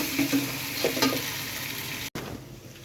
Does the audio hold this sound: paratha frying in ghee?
yes